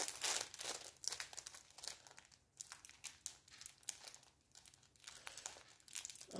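A ribbon for decorating a toilet-paper-roll craft is handled close up, giving dense, continuous crinkling and rustling with brief crisp bursts throughout, and no talking.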